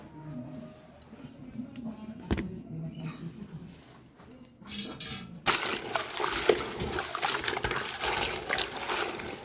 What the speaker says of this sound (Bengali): এবার সব একে একে ধুয়ে নিলাম।